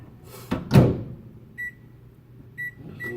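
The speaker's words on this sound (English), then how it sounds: "melt that in the microwave" A door thumps shut, then a microwave oven hums quietly while melting coconut oil, with short electronic beeps sounding twice and again at the end.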